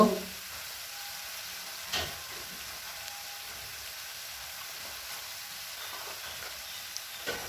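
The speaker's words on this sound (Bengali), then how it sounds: "পোস্তটা দিয়ে ভালো করে নেড়ে চেড়ে নেব এইভাবে মিশিয়ে নেব ভালো করে" Poppy seeds stirred into fried onion in a pan over low gas give a faint, steady sizzle with occasional soft scrapes and clinks of a spoon, quiet throughout.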